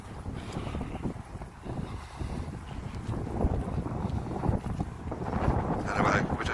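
Gusty wind buffets the microphone outdoors near an old town marketplace in Stockport, a steady low rumble with louder surges toward the end, while voices talk faintly underneath.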